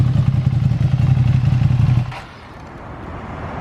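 A 2021 Ducati Panigale V2 rides up with a loud, steady low engine drone that cuts off sharply after two seconds, leaving a quieter idle-like hum.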